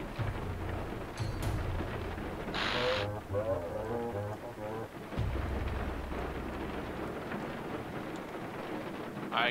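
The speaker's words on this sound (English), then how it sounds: "It's raining." Steady rain hisses throughout in the video game Bomber Crew while a deep thunder rumble rolls underneath, with a brief crackling burst partway through.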